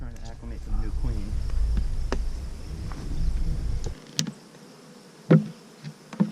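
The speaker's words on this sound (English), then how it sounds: "Hello, Italian bees." Italian honey bees hum steadily at an open hive for about four seconds, a dense low drone, then the buzz thins out to scattered individual bees with a few sharp clicks and knocks close by.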